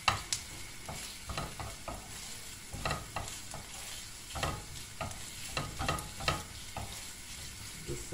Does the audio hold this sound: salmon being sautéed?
yes